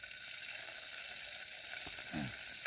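Garlic sizzles in a pan over a camping fire outdoors, a faint steady hiss with a brief clink near the end.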